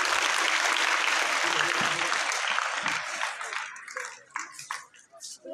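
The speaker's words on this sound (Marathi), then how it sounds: "एकदा जोरदार विलासजींसाठी टाळ्या होऊन जाऊया" An audience at a school prize-giving ceremony for a Ganesh festival display breaks into loud, dense applause that holds for several seconds, then thins out into scattered individual claps as it fades.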